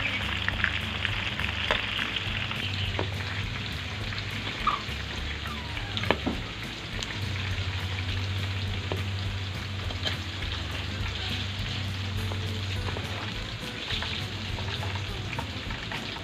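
Crispy pork and chicken frying in bubbling oil, a continuous close sizzle with frequent crackles and occasional louder pops, running steadily for the full length without speech.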